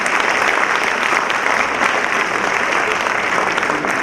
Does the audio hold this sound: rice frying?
no